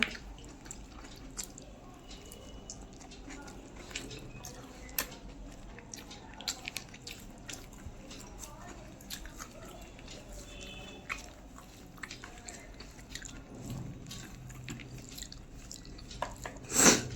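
Someone eating chilli chicken with fried rice and salad, close wet chewing and mouth squelches in an irregular rhythm over a quiet room, with faint clicks and no talking.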